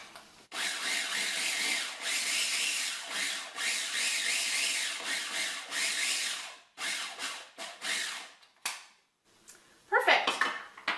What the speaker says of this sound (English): and stir again.